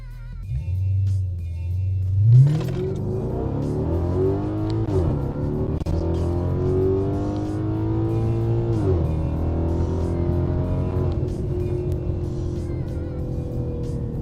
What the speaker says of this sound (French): avec l'échappement, ça va vraiment se ressentir que le moteur va monter dans les tours